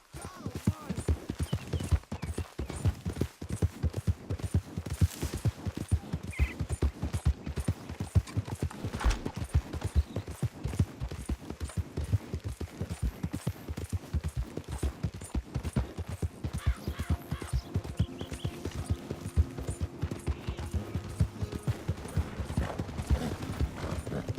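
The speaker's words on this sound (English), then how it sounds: "Giddy up. back to Dutch" Horse hooves clip-clop at a steady gallop in Red Dead Redemption 2, a continuous rapid drumming of footfalls with creaking tack and occasional game sounds, and someone talks briefly over it.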